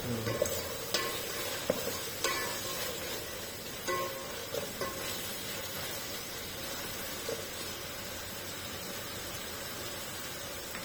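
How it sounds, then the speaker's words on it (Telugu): Ginger garlic paste fries in a pan with a continuous soft hiss and sizzle, with a few stirring clicks early on, then settling into an even, close, moderately quiet frying sound. "అల్లం వేసిన తర్వాత మినిమం ఒక 3 to 4 minutes అది ఫ్రై అయిపోవాలి, పచ్చి వాసన రాకుండా"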